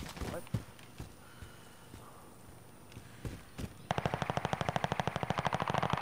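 Video game gunfire: a few scattered loud shots early on, then a fast, steady burst of rapid automatic fire that runs to the end, fairly close and prominent.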